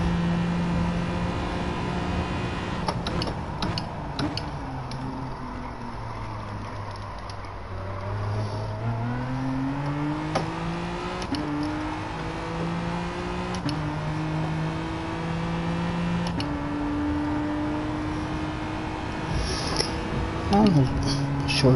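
Race car engine in a racing video game, a steady whine rising and falling through gear shifts, a player talking over it.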